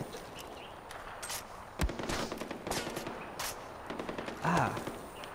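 Repeated gunfire bursts in the shooter game Far Cry 4, sharp cracks spaced irregularly over steady background ambience, with one louder close shot near the middle.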